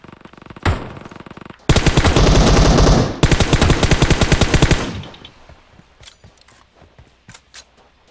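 Close, loud bursts of automatic gunfire in PUBG Mobile, two long rapid strings of shots followed by fainter scattered single shots trailing off.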